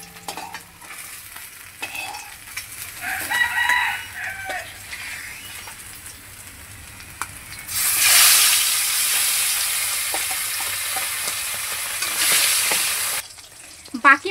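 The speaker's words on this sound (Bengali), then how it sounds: "বাকি যেই মাছগুলো আছে সেই মাছগুলোও কিন্তু আমি এই একইভাবেই ভেজে নেব" Pabda fish frying in hot oil in a home kitchen pan: a loud, steady sizzle swells midway and holds for several seconds, with earlier quieter stirring and clatter and some talking nearby.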